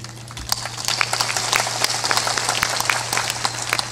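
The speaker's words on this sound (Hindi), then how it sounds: "ताली थोड़ा जोर से बजाया करो।" An audience at a spiritual discourse claps loudly in a dense, sustained burst of overlapping hand claps, with a faint voice in the background.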